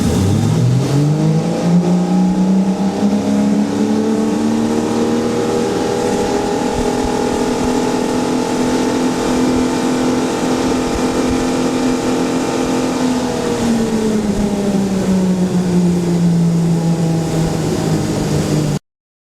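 A restored rare boat's engine, fitted with a custom prop, runs hard at throttle. Its droning pitch climbs quickly, holds steady and loud at wide open for several seconds, then winds back down near the end.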